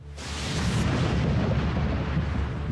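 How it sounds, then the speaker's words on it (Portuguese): A comet or meteor exploding high in the atmosphere: a sudden onset of deep, roaring blast that sustains as a dense, loud rumble for several seconds without fading. "Um tipo de explosão aérea."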